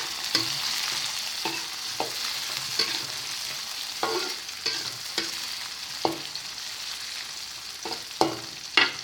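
Curly chilies being stirred in a hot frying pan while cooking sweet-and-sour spicy shrimp, with a steady sizzle and a scrape of the spatula every second or so, and no voices.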